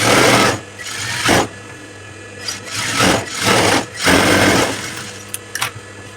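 A sewing machine stitches piping onto a churidar neck. It runs close and loud in several bursts of steady rapid whirring, separated by brief pauses, with no voices.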